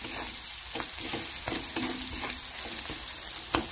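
Onion sizzles steadily in a pan while being stirred together with turmeric, red chili powder and homemade black masala for egg keema, with close scraping strokes over the constant frying hiss.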